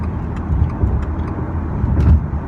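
A 2020 Subaru Legacy XT turbo accelerating up a freeway on-ramp, heard from inside the cabin as a steady low engine rumble with road noise and a slight rise in strain over a couple of seconds.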